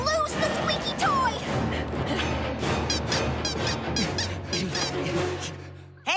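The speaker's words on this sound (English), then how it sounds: "McGee, lose the squeaky toy!" Rubber squeaky toy squeaks come in quick repeated high chirps amid cartoon action, mixed with animated character voices and busy effects.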